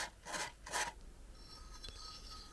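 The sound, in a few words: sanding sharp edges of engine cylinder liner with sandpaper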